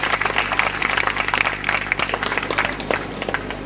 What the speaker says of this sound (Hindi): एक बार जोरदार ताली बजाए भाटी साहब के सम्मान में।